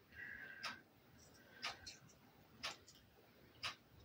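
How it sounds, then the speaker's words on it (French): A quiet clock ticking in a still room, four sharp, evenly spaced ticks about a second apart, faint and close, with a little soft background murmur between them. "Vous entendez bien la pendule, j'imagine"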